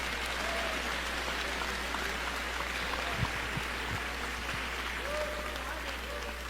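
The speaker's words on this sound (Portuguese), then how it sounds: "Pode aplaudir o nome do Senhor." A church congregation claps during a sermon, the applause forming a steady, even wash of many hands at moderate volume with no pauses, under a low constant hum.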